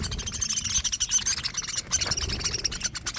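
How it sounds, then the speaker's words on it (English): Budgies (parakeets) at a safari park chirp and tweet in a busy, overlapping flock, with rapid high-pitched calls close by over a steady chattering background. "There's a bird on my camera."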